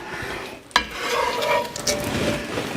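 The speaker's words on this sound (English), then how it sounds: "we can see that it's starting to sizzle here now" Grilled cheese sandwich sizzling in a frying pan, a soft continuous crackle with a utensil scrape and clink against the pan near the start, close and moderately quiet.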